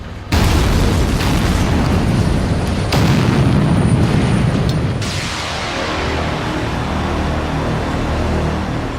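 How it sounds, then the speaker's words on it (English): A loud, sustained rock blast roars through a tunnel, a deep rumbling explosion with a second surge before it settles into a long, echoing rumble. "So they have to be dug out the old-fashioned way, by drilling and blasting."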